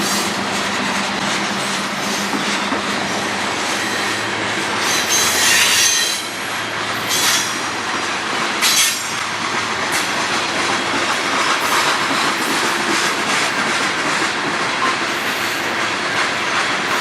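A CN freight train rolls past on the Strathroy Subdivision, a loud continuous rumble of wagons with rhythmic clickety-clack and bursts of squealing wheels, steady and close throughout with no talking.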